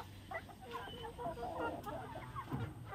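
Farmyard hens clucking in short, repeated bursts at close range, with a person's voice occasionally heard among them.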